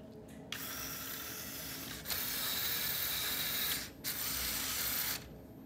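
LEGO robot motors running a wall-centering program, a close, buzzing whine in several bursts with short gaps between them, fairly quiet and with no talk.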